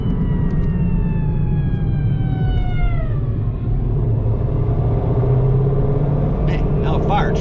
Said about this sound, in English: now a fire truck